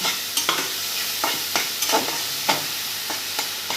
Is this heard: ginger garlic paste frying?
yes